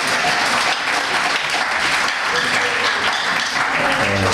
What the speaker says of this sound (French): donc la troisième fois, applaudissez-moi encore.